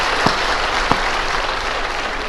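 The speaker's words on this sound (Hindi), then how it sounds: "ताली बजाइए" An audience claps together at a Hindi comic poetry gathering (kavi sammelan), a steady, even wash of applause that holds for a couple of seconds, with no voices over it.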